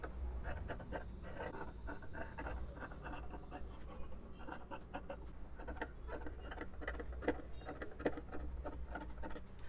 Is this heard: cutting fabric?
yes